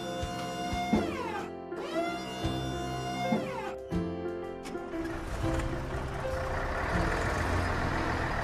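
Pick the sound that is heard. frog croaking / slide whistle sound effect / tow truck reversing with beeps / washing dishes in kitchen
tow truck reversing with beeps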